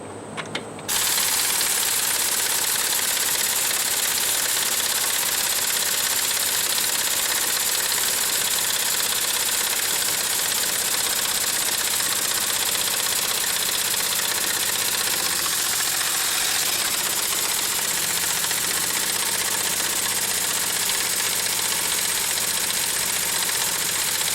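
An air compressor runs steadily and loudly throughout, building pressure toward its 170 psi cut-off, with a continuous motor drone and no speech over it.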